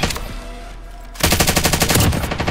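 Automatic gunfire in the video game Call of Duty: Modern Warfare, a loud rapid burst of shots starting after a brief quieter stretch and continuing to the end.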